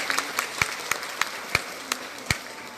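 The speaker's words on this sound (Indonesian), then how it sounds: "Tepuk tangan dulu untuk Rizal dan kawan-kawan." Sparse, scattered hand claps ring out, a handful of individual claps spaced irregularly rather than full applause, fairly quiet.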